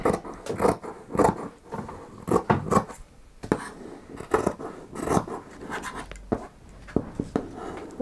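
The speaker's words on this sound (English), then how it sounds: "lay your triangle next to the triangle that you've just cut in order to minimise wastage, and cut round again." Scissors cut around fabric triangles for bunting in a quiet room, giving a series of close, crisp snips and rustling slices in uneven bursts.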